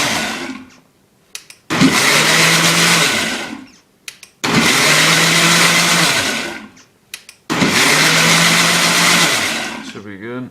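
A blender pulses a kale smoothie in three loud bursts of a couple of seconds each, with short quiet gaps and clicks between them; close by, with no talking over the motor.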